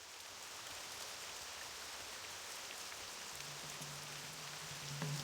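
Steady rainfall in World of Warcraft Classic, a soft even hiss of drops on the ground continuing unbroken and fairly quiet, with no voices over it.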